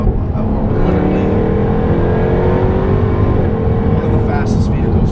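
A 2016 Jaguar F-Type R AWD with an 8-speed ZF automatic launching hard from a standstill, its engine roaring loud and close as revs climb steadily through a gear under rushing noise.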